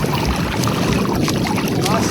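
A fishing boat comes in off the water near Bazaruto Island, Africa, its engine and water wash blended with strong wind buffeting the microphone, loud and close throughout.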